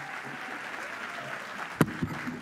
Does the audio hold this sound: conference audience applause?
yes